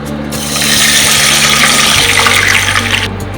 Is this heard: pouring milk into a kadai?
yes